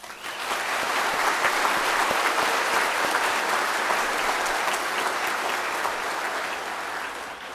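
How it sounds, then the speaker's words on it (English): Audience applause at a college graduation ceremony, a dense, even roar of many hands clapping that fills the hall and holds steady for several seconds before easing slightly. "Audience, please give them a round of applause."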